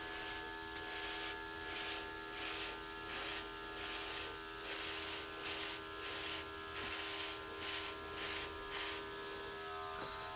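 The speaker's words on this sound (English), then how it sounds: "airbrush is the way to go. I don't have any paint or anything in here. There's nothing in there. It's just for air." An airbrush blowing only air with no paint loaded gives a faint, steady hiss with a thin motorized buzz underneath, continuous and unchanging throughout.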